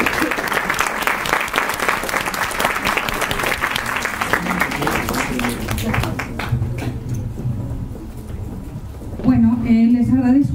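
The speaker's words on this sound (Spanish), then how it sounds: "Un aplauso, por favor" An audience at a lecture on Mexican piñata traditions claps in a full, sustained round that gradually thins and fades, after which a voice begins speaking into a microphone.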